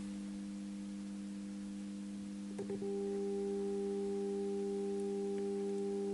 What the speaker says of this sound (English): you'll be able to hear the 400 hertz sound here